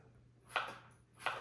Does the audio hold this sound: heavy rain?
no